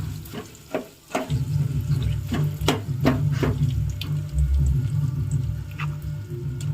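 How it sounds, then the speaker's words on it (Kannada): Tamarind paste (gojju) frying in oil for puliogare gives a continuous loud sizzle with spatula scrapes and taps early on, close and without any voices. "ಗೊಜ್ಜು ಕ್ಲೀನಾಗಿ ಆಯಿಲಲ್ಲಿ ಚೆನ್ನಾಗಿ ಫ್ರೈ ಮಾಡ್ಕೋಬೇಕು"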